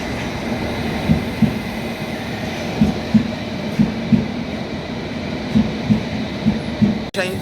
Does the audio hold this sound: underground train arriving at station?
yes